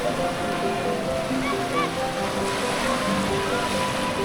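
Surf rolls onto the wide, sheltered sandy beach of Wediombo in Gunungkidul, a continuous rushing wash of waves with faint melodic tones running underneath.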